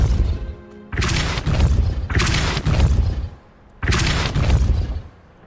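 The Depulso spell is cast in Hogwarts Legacy and lands as three loud, broad bursts like booming thuds, each lasting about a second, with short quieter gaps between them.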